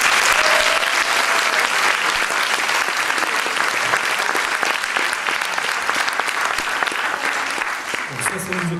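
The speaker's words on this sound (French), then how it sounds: "Alors, vous pouvez les applaudir déjà." Audience applause at a youth theatre show, dense and continuous clapping throughout, loud and close, tapering slightly near the end while a voice begins.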